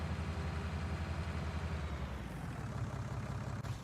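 A tractor engine idling in Farming Simulator 19, a steady low rumbling drone that holds evenly throughout at a quiet level, with no talk.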